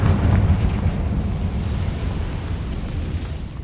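The Confringo fire-blast spell in Hogwarts Legacy lands as a loud, deep explosive whoosh. A heavy low boom opens it and slowly fades into a rumbling roar, with no voices over it.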